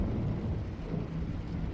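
Thunder effect for a stormy night in a French audiobook of Clive Barker's Hellraiser, a steady deep rolling rumble with rain-like wash throughout, fairly loud and alone with no voice.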